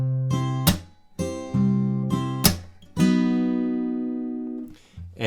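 Acoustic guitar chords strummed in short bursts, several strokes ringing out, the last chord left to sustain and fade.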